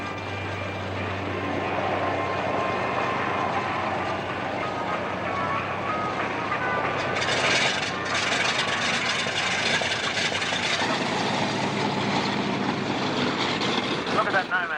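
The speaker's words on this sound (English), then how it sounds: "Turboprop aircraft, and it fires." Turboprop aircraft engine at a 1986 airshow in Cooma during a short takeoff, a loud sustained roar that swells midway, with a commentator talking over it.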